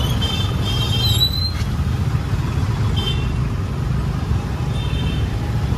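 Dense road traffic in Guwahati city, a steady loud rumble of cars, trucks and buses idling and creeping in a jam, with a brief high squeal and a few faint horn-like tones over the continuous wash.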